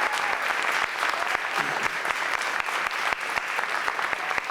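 A concert audience claps for a community jazz band, with sustained, full applause that has sharp individual claps cutting through the dense crowd sound, loud and close throughout.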